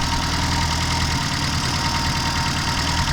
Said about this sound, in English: This is the Reliant 850cc engine that was in